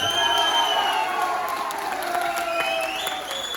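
Audience applause at a training speech in Dehradun, steady clapping mixed with some cheering and crowd noise, fairly loud and continuous throughout with no clear talk over it.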